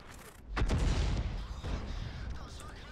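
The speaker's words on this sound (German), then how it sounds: "Ich ziele 3 Meter hinter dem Panzer und der Schuss fliegt 2 Meter vor ihm in die Erde" A Hummel self-propelled artillery gun in World of Tanks fires a shell, a loud deep boom with a rumbling tail, followed by a softer thud as the round lands, with faint voice underneath.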